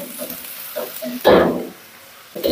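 Garlic frying in hot oil for ginisang upo, bursts of sizzling with stirring scrapes, loud and close, with a voice speaking briefly alongside.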